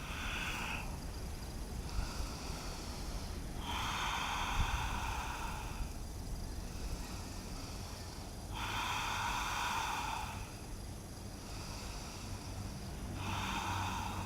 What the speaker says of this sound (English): Let's enjoy a few deep breaths here.